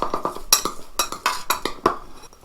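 A teaspoon clinks and scrapes against a dish while vegetables are tossed with olive oil, giving a run of sharp, close metallic taps in an uneven rhythm, with no talk.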